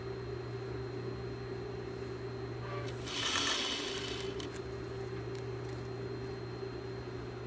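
A sewing machine stitches an elastic casing in a short steady burst about midway, rising briefly over a constant hum and background drone before settling back.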